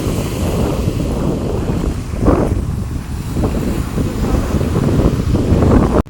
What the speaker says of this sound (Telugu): సముద్రం చూడండి ఎంత గట్టిగా అరుస్తుందో